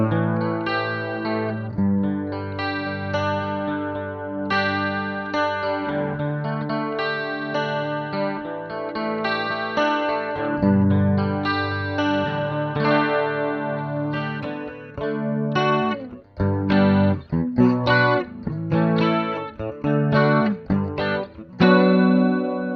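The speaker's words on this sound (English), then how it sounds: "The legendary chorus is where you're going to hear the stereo." Electric guitar through a Roland JC55 amplifier with its stereo chorus in manual mode, shimmering sustained chords and melodic notes with a wavering swirl, steady and moderately loud throughout.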